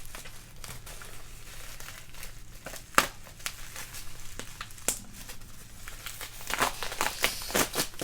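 Packaging is torn and crinkled open on an art-supply unboxing, close and fairly quiet, with sharp rips among a steady rustle of paper or plastic.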